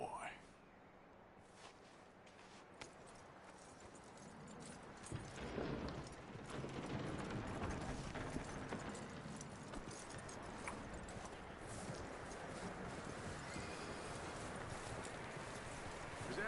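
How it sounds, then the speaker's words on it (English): Horse hooves clip-clopping in the Red Dead Redemption II video game, a steady rhythmic trot under ambient game sound, with someone talking intermittently over it. "That looks like a decent horse."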